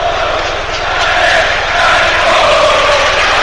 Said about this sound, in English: And there's a healthy round of applause.